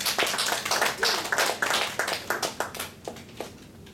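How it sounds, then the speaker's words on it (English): A small meeting group at a Toastmasters club gives applause for the timer; a handful of distinct hand claps, close and fairly loud, thinning out and fading over the final second. "So please have a big round of applause for TM Poojan."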